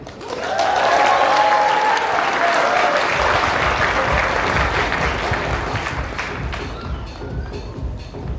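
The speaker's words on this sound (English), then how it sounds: "let's give a big round of applause, please" A crowd claps in sustained applause at a wedding reception, loud and steady throughout, with a few voices mixed in.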